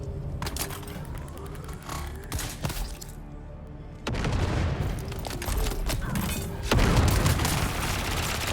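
Grenade explosions in the Dune beta video game, a string of heavy booms and rumbling blasts with bursts of crackling fire, loud and dense.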